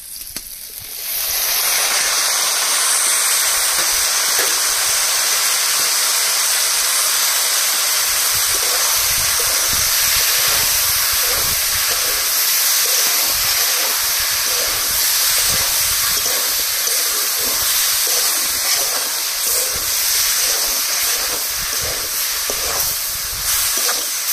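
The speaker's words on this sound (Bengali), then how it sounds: "শাক তেলের উপরে দিয়ে 2-3 মিনিট ভেজে নিয়েছি" Greens and steamed jackfruit seeds fry in hot oil with shrimp, onion and garlic, making a loud, steady sizzle that starts abruptly and hisses on without pause for over twenty seconds.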